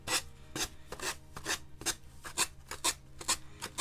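Rhythmic rasping strokes of a sanding pad rubbing back and forth, about a dozen even scrapes in quick succession, close and fairly loud.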